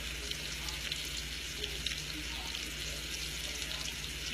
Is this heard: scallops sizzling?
yes